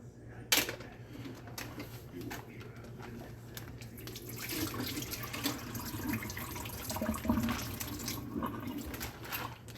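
A redfish fillet is rinsed under cold running water, with a steady tap-like splashing and swishing that grows fuller toward the end, plus a sharp knock near the start.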